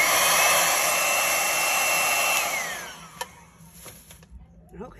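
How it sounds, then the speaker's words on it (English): A small handheld blower dries paint with a loud, steady whir that winds down and stops partway through, followed by faint handling clicks. "My little blower."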